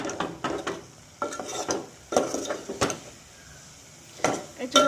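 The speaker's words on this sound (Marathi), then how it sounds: "आता ह्यांना एकजीव करून घेऊया मस्तपैकी, मस्त असं तेलामध्ये आणि त्या वाटणामध्ये मस्त भाजून घ्यायचे।" A spoon scrapes a pan as mutton is stirred and fried in oil with ground masala paste, giving repeated close scraping strokes over a soft sizzle.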